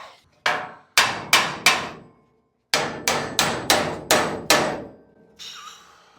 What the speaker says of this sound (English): I'm gonna have to hammer that bolt in